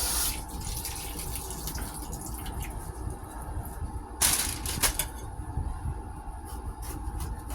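Tap water running steadily into a kitchen sink where dirty lettuce is being rinsed, a soft continuous splash with a brief louder surge partway through.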